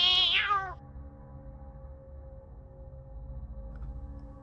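A black cat gives a single loud, rising-and-falling meow at the start, then fades into a quiet, low steady hum for the rest of the moment.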